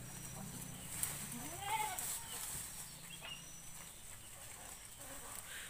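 Rambon and Kacang goats in a farm pen give a few brief bleats amid quiet pen ambience, with people talking intermittently nearby.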